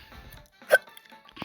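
A single sharp hiccup bursts out near the middle, loud and close, between stretches of quiet background sound.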